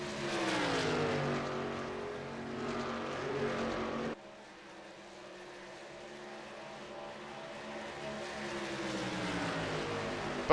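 Race truck engines in the iRacing sim roar at high RPM, one loud steady drone that drops and shifts partway through as the view changes, then builds again.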